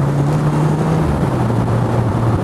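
A 2024 Morgan Plus 4 sports car drones loudly and steadily from inside while driving after a downshift, its engine note holding low and shifting slightly in pitch under rushing wind noise.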